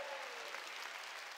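Steady applause from a church congregation during a sermon, a dense, even wash of clapping that holds at a constant level for the whole stretch with no voices over it.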